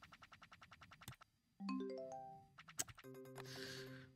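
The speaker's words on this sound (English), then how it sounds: "bells are ringing. All the sounds, and you have like 5x win" Bells and chimes ring in an online casino slot video game during a win, a fast run of bright electronic dings, rising tones and jingles, fairly quiet and with no voices.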